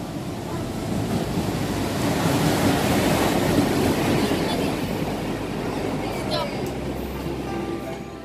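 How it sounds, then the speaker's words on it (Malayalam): A train pulls into a station in Kozhikode with a broad rumbling roar and clatter that builds and then holds, close and loud, while people talk nearby. "ട്രെയിൻ എത്തി."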